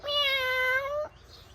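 A single close, clear meow imitated by a human voice, a drawn-out harmonic cry lasting about a second, then quiet.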